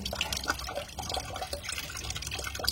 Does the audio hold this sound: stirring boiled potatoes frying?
no